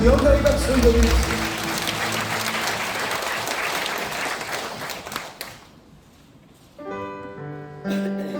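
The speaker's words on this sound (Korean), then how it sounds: "다시 한번 더 영광의 박수 올려드리겠습니다." Congregation applause during a Korean church worship service, a dense wash of clapping over the first five seconds with a sung or spoken voice and organ-like tones, then fading as music resumes.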